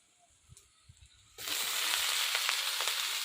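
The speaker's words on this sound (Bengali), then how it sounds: "শাক ভাজবো আগে। শান্তি শাকটা ভেজে নেই" Shanti greens hit hot oil already seasoned with garlic and onion: after a near-quiet start with a few soft taps, a loud, dense sizzle bursts in and holds steady to the end.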